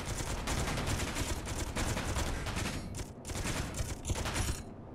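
Heavy, continuous volleys of gunfire from guns in Space Engineers, loud overlapping rattling bursts filling the whole stretch with brief dips.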